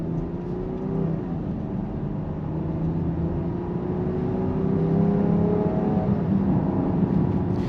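A 2023 Jeep Grand Cherokee L with a V6 engine accelerating, a steady droning engine hum whose pitch climbs smoothly through quick gear shifts, heard from inside the cabin with no talking.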